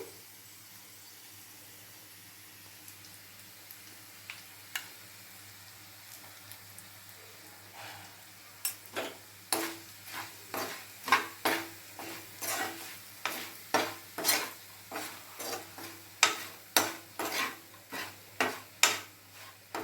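Bitter gourd is stir-fried in a pan on low flame with chana dal, coconut and chili powder. Faint sizzling gives way to a run of brisk, rhythmic spatula scrapes and stirs against the pan.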